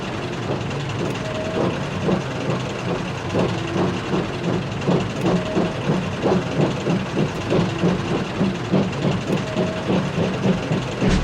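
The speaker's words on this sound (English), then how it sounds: "With the train divided, they managed to run up the hill with ease." A train running up a hill rumbles along with a rhythmic, repeating clatter of wheels and a steady engine drone, fairly close and continuous.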